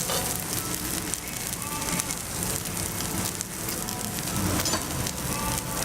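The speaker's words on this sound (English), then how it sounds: "We're just going to make sure that these are charring beautifully." Onions charring in a hot pan, a dense, continuous crackling sizzle with scattered pops, close and steady throughout, no talk.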